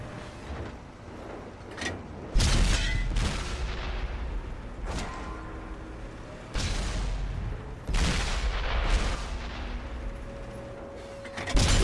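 Heavy tank cannon fire in a World of Tanks console battle with a Conqueror tier 9 tank: loud, booming shots recurring irregularly, each with a sharp onset and long rumbling decay, amid ongoing battle noise.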